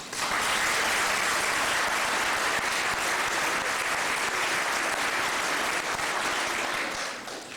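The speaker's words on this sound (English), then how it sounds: "I'd like for you to give them a round of applause, please." Audience at a police officer academy graduation ceremony gives a sustained round of applause, dense and steady clapping throughout before tapering slightly at the end.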